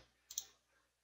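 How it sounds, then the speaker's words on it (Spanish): A faint, close computer mouse click, one soft double-tap in an otherwise quiet room. "Hacemos clic en igual."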